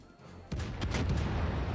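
Naval guns fire in World of Warships as a low boom kicks in partway and then rolls into sustained distant cannon rumble and blasts, with no voices.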